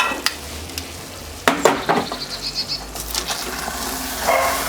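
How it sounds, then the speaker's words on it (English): Chicken curry stirred in a Dutch oven on a Kamado Joe grill, a spoon clanking and scraping against the cast-iron pot in uneven strokes over a steady low sizzle, close and fairly loud, no talking. "I'm going to give that a nice stir"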